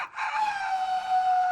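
A person mimics a rooster's crow at a zoo: one sustained, strained call that holds a steady pitch for over a second, loud and close, with no other voices.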